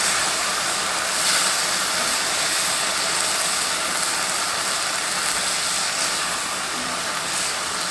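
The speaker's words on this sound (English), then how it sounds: "And that's assisting deglazing the pan also, and getting all that goodness off the bottom." Sauce mixture hits a hot pan with pork, giving a steady, loud, even hiss of sizzling and steam that continues without a break.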